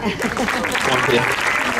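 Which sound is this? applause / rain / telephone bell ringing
applause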